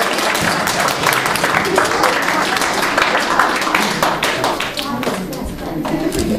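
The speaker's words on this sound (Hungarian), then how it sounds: "Tapsoljunk, amíg itt van a gyerek!" A crowd at a children's ski race award ceremony applauds in dense, continuous clapping that stays loud and even throughout, with some voices mixed in.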